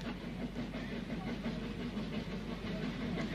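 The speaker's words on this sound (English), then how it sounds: "the steam of a Shrewsbury-bound train on the Central Wales line" A steam train bound for Shrewsbury on the Central Wales line rumbles steadily, a faint, distant low drone with soft hiss and no clear beat, continuous throughout.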